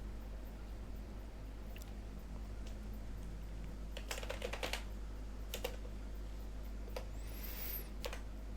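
Keys on a computer keyboard are tapped while an online admission form is filled in: quiet, sparse clicks and a quick cluster of keystrokes in the middle over a low steady hum, with no talking.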